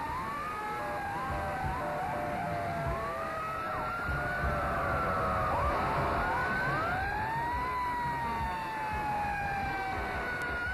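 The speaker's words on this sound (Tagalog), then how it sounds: "Si Ayos ang nagmamaneho ng fire truck." Fire truck sirens wail with rising and falling tones, several overlapping, loud and continuous over a rumble of traffic.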